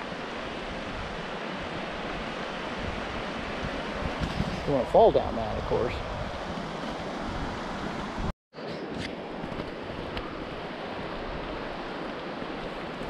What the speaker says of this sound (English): Beautiful overlook of the creek.